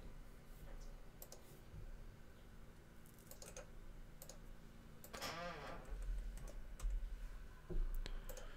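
Computer keyboard typing and mouse clicking while searching online for land deals, a steady patter of light keystrokes and clicks at close range with a low background hum and no talk.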